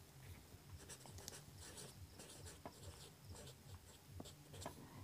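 A pen writes by hand on paper in short, scratchy strokes and taps, quiet and close, in an irregular rhythm with no speech.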